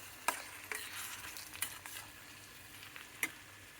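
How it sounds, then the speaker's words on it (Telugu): Bitter gourd frying in a pan with a constant oily sizzle, broken by a few sharp clinks and scrapes of a spatula stirring, close and fairly quiet with no talk. "కాకరకాయ వేగుతున్నాయి."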